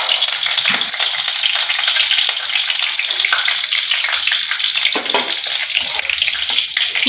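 Cumin seeds, cardamom and cinnamon sizzle loudly in hot oil, a dense continuous crackling hiss close up with occasional sharper pops and stirring, no talking.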